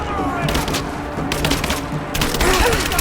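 Rapid bursts of gunfire in the video game Rise of the Tomb Raider, several volleys close together over about three seconds, with a brief lull in the middle before firing resumes loudly.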